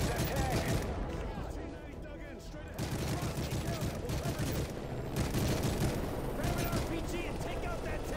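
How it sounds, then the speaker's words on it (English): Russian armor on a bridge in Call of Duty: Modern Warfare 3 fires in dense, continuous bursts of gunfire and booming blasts, with a short lull in the middle and voices mixed into the battle. "we have Russian armor firing on the bridge"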